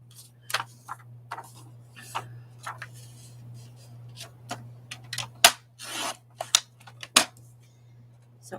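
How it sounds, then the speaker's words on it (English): Scissors snip and rasp through magazine images being trimmed for a gluebook, giving scattered short cuts and paper rustles close to the mic over a steady low hum, with no talking. "So I'll just be here trimming up these magazine or these images from a Gluebook"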